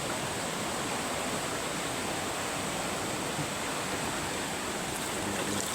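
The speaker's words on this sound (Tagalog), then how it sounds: "malakas yung agos yan" A strong, steady floodwater current roars throughout in Bicol, a dense broadband wash with no breaks, like a fast river current close by.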